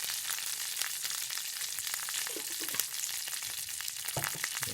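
Asafoetida and turmeric powder sizzling in hot oil over a medium flame for lemon rice, a dense continuous frying hiss with a few faint utensil taps, close and without any voices.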